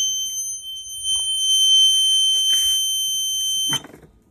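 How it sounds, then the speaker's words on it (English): A steady high-pitched electronic buzzer sounds continuously for several seconds, loud and unbroken, then cuts off abruptly. "Well, that is a buzzer, huh?"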